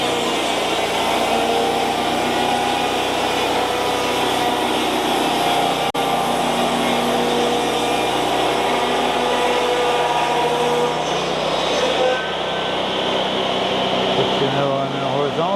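A sawmill blade runs a bevel cut through spruce siding, giving a loud, continuous mechanical roar and whine that stays steady throughout, with some talking underneath.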